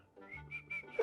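A person whistles a short, thin tune, a few clear high notes in quick succession, fairly quiet and close with nothing else around.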